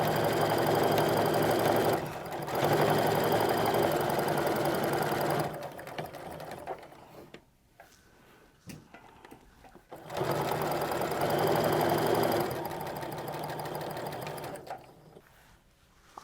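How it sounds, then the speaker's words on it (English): A sewing machine stitches strip-pieced quilt fabric in long steady runs, a loud close mechanical whir that pauses in the middle with soft handling clicks, then starts again. "I'm sewing right up to where that pin is"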